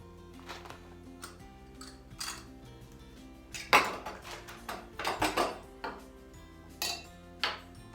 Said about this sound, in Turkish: Şimdi bu kahvemizi açalım